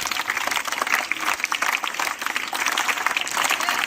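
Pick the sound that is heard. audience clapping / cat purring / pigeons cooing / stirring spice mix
audience clapping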